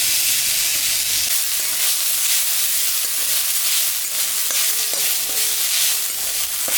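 Grated coconut frying in a hot wok: a steady, close hiss of sizzling with scattered small ticks and scrapes from stirring, moderately loud and unbroken, no speech.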